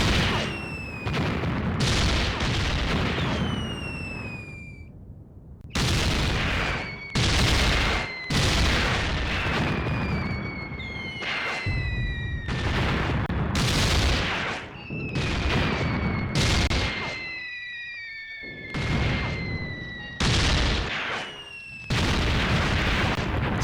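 Soviet artillery fire in the World War II tactics game Graviteam Tactics: Mius Front, with repeated loud booming blasts in irregular bursts, some followed by whistling, descending shell tones and rumbling gaps.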